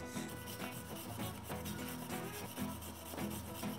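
A brush scrubs rust steadily on a Kawasaki H2 supercharged motorcycle, a continuous raspy rubbing with quick repeated strokes, close and fairly quiet, no talking.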